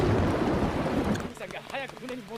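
Steady rain in a One Piece anime scene hisses loudly for about a second, then fades as a voice begins speaking over lighter rainfall.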